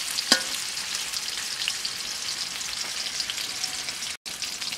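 Pangas fish pieces fry in a pan with a steady bubbling sizzle and fine crackle, moderately loud and close, with one sharp pop near the start and a brief dropout toward the end.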